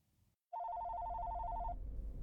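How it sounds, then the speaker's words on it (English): A telephone bell rings as a sound effect, one continuous electronic trill lasting just over a second, loud and alone over a low background rumble. "The phone rang on John's desk, and his world came crashing down."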